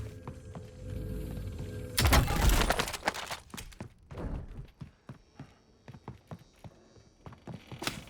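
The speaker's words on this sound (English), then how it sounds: "Inserting additional armor." Armor plate being inserted in Call of Duty Warzone, heard as a burst of loud rustling and clunking followed by a run of sharp, evenly spaced clicks and taps of gear handling, with game ambience underneath.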